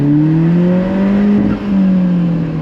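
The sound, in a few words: sports car engine revving at redline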